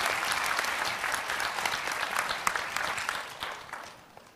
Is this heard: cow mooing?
no